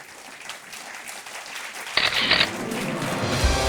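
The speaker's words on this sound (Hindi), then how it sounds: "तो एक बार फिर तालियों के साथ आपका अभिनंदन करते हैं" Studio audience applause on a televised quiz game show breaks out suddenly and loudly after a quiet stretch, sustained dense clapping that holds steady to the end.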